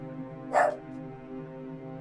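A pet dog gives a single short bark or yip near the start and another begins right at the end, close by, over a constant low hum, with quiet between.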